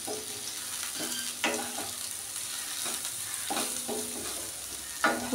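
Sliced bitter gourd (uchhe) fries in oil in a pan, a constant gentle sizzle broken by several distinct scraping stirs of a spatula at irregular intervals.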